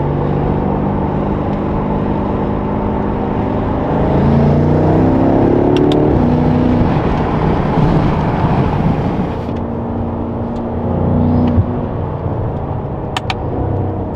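Mercedes-AMG GT S sports car accelerating hard, a loud close engine roar climbing through the gears with a few sharp exhaust pops and crackles near the end, no talking.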